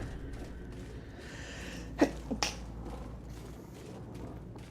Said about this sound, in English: Oh, excuse me. I just sneezed.